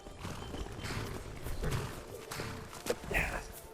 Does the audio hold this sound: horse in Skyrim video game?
yes